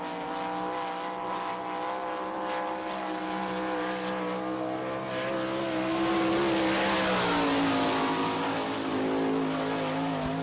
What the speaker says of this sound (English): 14147, the first lap for Lance DeWeese